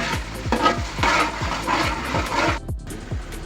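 About two kilos of fish sauté in an oily pan while being stirred. A steady sizzle runs under quick, regular scraping strokes, close and fairly loud.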